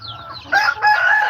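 Australorp and heritage-breed hens clucking nearby, a loud, drawn-out call rising and then repeating after a brief break, heard alone without talk.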